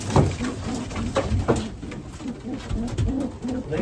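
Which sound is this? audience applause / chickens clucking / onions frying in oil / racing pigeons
racing pigeons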